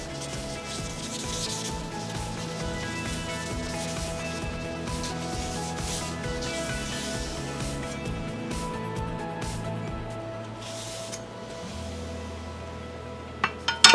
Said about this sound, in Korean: 동백기름이나 도마형 오일로 서너 번 닦아주면